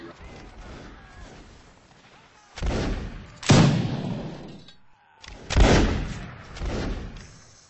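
Musket volleys in a Mount and Musket Waterloo battle, loud booming bursts of gunfire with rolling echoes, several heavy shots spaced across the stretch amid quieter ambient battlefield noise.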